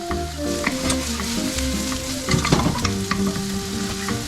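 Butter and tomato meatball sauce stir-fried over high heat for spaghetti, a loud close sizzle with scraping and clattering stirs against the pan, no voices.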